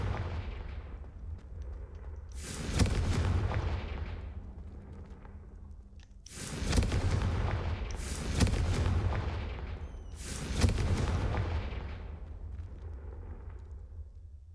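Confringo spell blasts in Hogwarts Legacy, four booming explosions in uneven succession, each a sharp burst trailing off into a rumbling decay, fairly loud against a quiet background.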